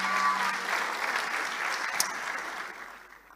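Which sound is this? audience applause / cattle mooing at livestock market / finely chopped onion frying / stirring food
audience applause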